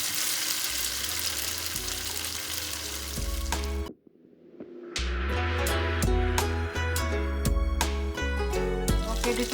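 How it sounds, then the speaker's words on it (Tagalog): Chicken sizzles loudly in a hot pan, a dense steady hiss that briefly drops out partway through before returning just as strong, with no talking. "We need to fry the chicken"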